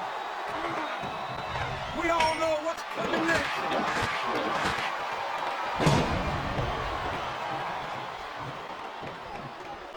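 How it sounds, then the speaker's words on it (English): Crowd noise from a wrestling arena in the video game WWE SmackDown vs. Raw 2007, a steady roar under commentary, with slams and thuds standing out from the broadband din. "This capacity crowd is making their opinions known tonight."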